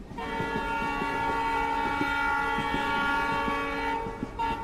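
A train rushes through a tunnel as a dramatized sound effect: a loud, sustained rumble and roar with a droning horn-like tone on top and a regular clickety-clack of wheels. It fades slightly at the end, with no voices.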